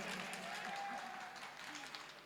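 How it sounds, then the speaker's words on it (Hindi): Faint, distant clapping from a mushaira crowd at an all-India poetry gathering in Kandhla, a steady patter of many hands at low volume throughout. "एक बार जोरदार तालियां बजाकर मुझे इजाजत दीजिए"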